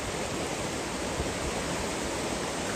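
A small artificial waterfall and river waves in a Munich city park make a steady, dense broadband rush of falling and churning water, continuous and unbroken throughout with no voices.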